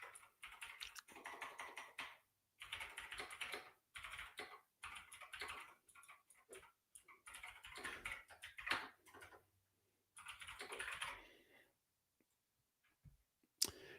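Fast typing on a computer keyboard in quick bursts of clicky keystrokes, with short pauses between runs, close and fairly quiet.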